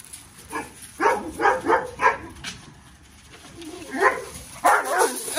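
A dog gives several short, muffled barks and whines in a row, fairly close in a yard-like setting, with pauses between bursts.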